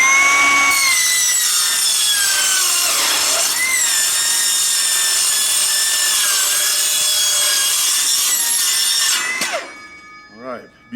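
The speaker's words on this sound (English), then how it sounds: "we're going to try to cut these with this instead of using either a chop saw or a bandsaw" A Milwaukee cordless metal-cutting saw slices through tied wires in a steady, loud, whining cut of about nine seconds that slows and bogs slightly, then stops abruptly, with only brief handling noise afterward.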